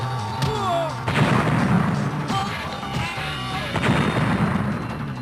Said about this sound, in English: We were shooting missiles for like 2 seconds.